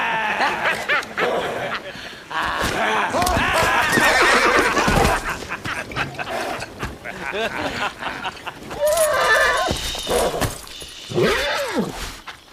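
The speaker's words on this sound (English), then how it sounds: "we had a few guys bullying a horse" Horse neighing and whinnying in the samurai video game Ghost of Yotei, several loud rising-and-falling calls over game sounds and clip-clop hooves, with voices talking in between.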